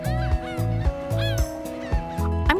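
Geese honk in a repeated series of loud, nasal calls, several blaring honks in quick succession from nearby wild waterfowl in the Lake Erie watershed in Ohio, with no talking.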